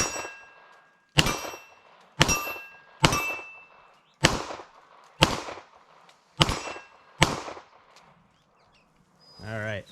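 Beretta M9A4 9mm pistol fired outdoors: eight loud, sharp shots at a steady pace of roughly one per second, each with a short ringing tail, followed by a brief voice.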